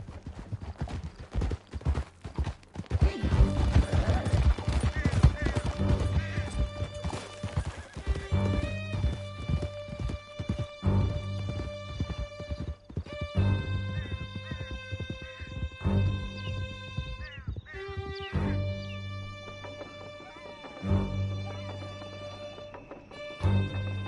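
Horses in Red Dead Redemption 2 gallop in a hard, steady clip-clop with occasional whinnies, set against a loud, busy game score with scattered gunfire during a canyon chase.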